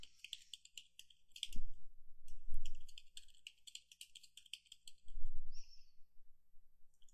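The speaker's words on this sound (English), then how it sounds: "I'll type in the rest." Typing on a computer keyboard while filling in fields of email signature software, a steady run of light, quick key clicks with a few louder thumps, heard alone at close range.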